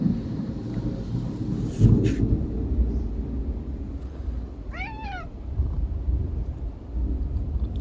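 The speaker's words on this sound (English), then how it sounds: "watching a classic Oklahoma storm" A classic Oklahoma thunderstorm brings steady rain hiss and low rolling thunder, with a sharp crack near the start and a single clear cat meow partway through.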